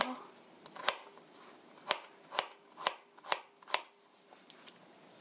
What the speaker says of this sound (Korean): 이렇게 썰어 주시고요